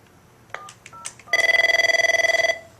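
An Avaya 9504/9508 digital desk phone rings for an incoming call, a loud rapid pulsing electronic trill lasting over a second, preceded by a few short soft beeps.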